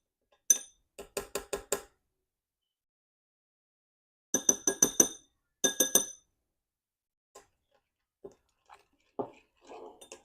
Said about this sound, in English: just keep mixing until you get it to the consistency that you prefer